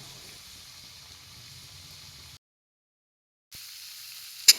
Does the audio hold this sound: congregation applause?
no